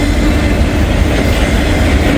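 A freight train with a distributed power locomotive rolls past close by, a loud continuous rumble of wheels and wagons with faint clatter and no voices.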